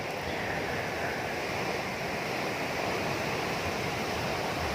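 A steady, rushing roar of surf washes over Kuta Beach, Bali, in the morning, a broad continuous wash of breaking waves with no voices.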